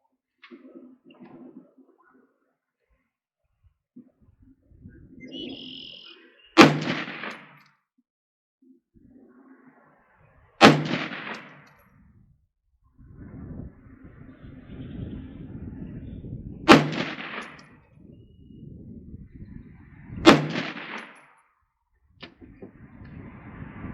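Diamondback DB-15 rifle firing rounds at an outdoor range, four sharp loud reports spaced several seconds apart, with faint background noise and shuffling between shots.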